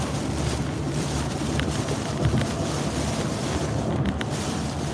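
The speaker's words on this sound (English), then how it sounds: "just like that, heavy wind, heavy water" Heavy hurricane wind and churning water during Hurricane Nicole's landfall in West Palm Beach, a steady loud roar with gusty buffeting on the microphone and no break throughout.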